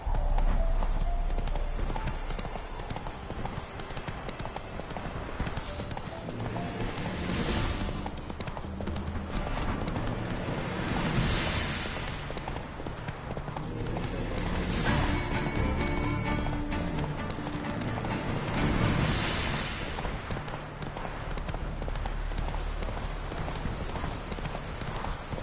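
Roach, the horse in The Witcher 3, gallops in a fast, steady, rhythmic clip-clop of hooves that carries on throughout, over a dense game background with swelling music and a brief whinny.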